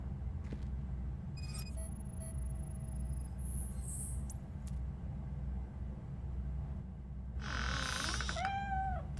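A cat meows twice in RoboCop: Rogue City, fairly clear over a constant low rumbling ambience, with faint chimes and beeps earlier in the scene.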